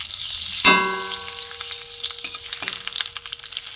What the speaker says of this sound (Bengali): সর্ষে আর শুকনো লঙ্কা ফোড়ন দেবো